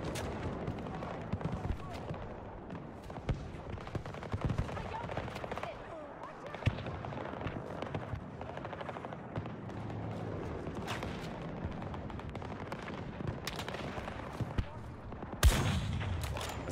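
Dense, continuous weapon fire from the Battlefield 2042 video game rattles through the whole stretch, mixing rapid machine-gun bursts with heavier blasts and a sharp loud hit near the end, with faint talk under it.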